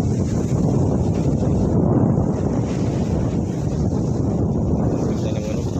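Strong cold wind gusting during a brief storm, roaring steadily and loud across the microphone as constant broadband buffeting with no pauses.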